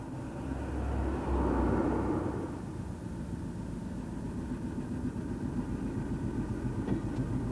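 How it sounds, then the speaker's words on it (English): A train of empty wagons passes on a rural railway branch line, a low rumbling roll that swells early then settles into a steady distant drone, fairly faint and with no voices. "we follow a train of empties which originated in Workshop Yard"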